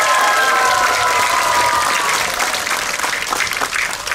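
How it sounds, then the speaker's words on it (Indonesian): An audience at a government ceremony in Kupang, NTT, breaks into sustained applause, a dense, loud wash of clapping that holds steady and then slightly thins toward the end. "Tepuk tangan untuk Ibu Kepala Sentra Evata, Ibu Tota"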